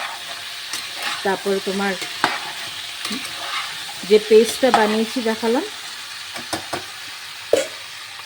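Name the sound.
potato and papaya frying in a pan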